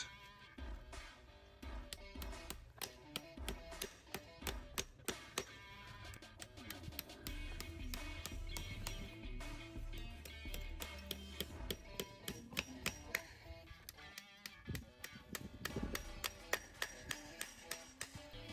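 Hammer blows driving nails into a horseshoe on a horse's hoof, a steady run of sharp metallic taps, faint and close, repeating throughout.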